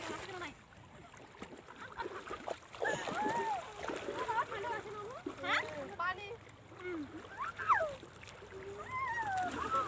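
Water splashes faintly and intermittently as people wash and bathe in a river, with voices talking throughout.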